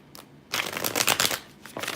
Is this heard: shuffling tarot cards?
yes